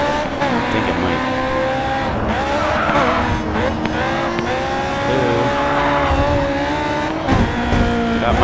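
A Honda race car in the video game Grid 2 drones with a loud, continuous engine whine that rises and falls through gear changes, while tires squeal and skid in long wavering screeches throughout.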